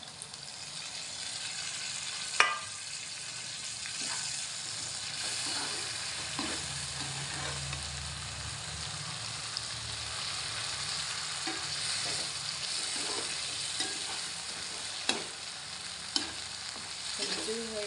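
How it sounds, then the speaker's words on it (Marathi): Cooked mutton frying in a pan, a continuous close sizzle with repeated stirring scrapes and occasional sharp taps of the spoon against the pan, no voices. "तर हे शिजवलेलं मटण टाकून घेऊया"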